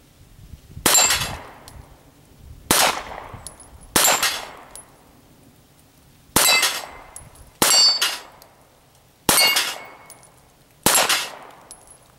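Seven sharp, ringing pistol shots from a vintage Smith & Wesson Performance Center 39, each followed by the clang of a bullet striking a steel plate at range, fired at uneven intervals of one to two seconds.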